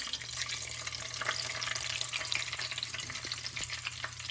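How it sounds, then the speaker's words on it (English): Vegetable tofu rolls sizzle and crackle in hot oil at medium heat, a steady close frying hiss with occasional pops and a low background hum. "keep the temperature in medium, okay, until you're done with frying"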